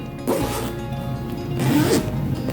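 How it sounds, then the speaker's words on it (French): Zipper on a sewn, lined vanity bag with invisible seams pulled open or shut, a close, loud rasping zip lasting a couple of seconds with a brief pause, heard on its own. "avec une fermeture éclair"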